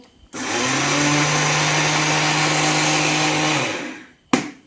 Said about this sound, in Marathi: अगोदर कसं मिक्सर मध्ये थोडीशी साखर काढून घेणार मी